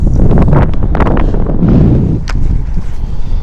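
Steady wind buffeting a microphone outdoors while bass fishing, a loud continuous low rumble with gusty swells and faint rustling throughout.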